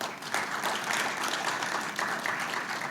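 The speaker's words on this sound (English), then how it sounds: "Please give him a big round of applause." A conference audience applauds an ambassador being welcomed on stage at an economic dialogue, a dense, sustained wash of clapping at moderate volume with no talking over it.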